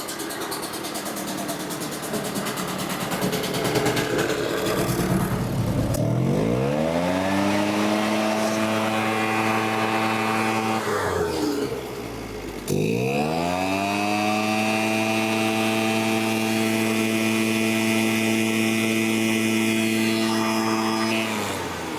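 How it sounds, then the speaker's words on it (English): A Husqvarna 350BT backpack blower's small two-stroke engine revs high, drops to a steady idle, briefly dips, then settles back into a loud, even idle up close, with no talking. "we held a good idle right around 2200 RPM where you're supposed to be"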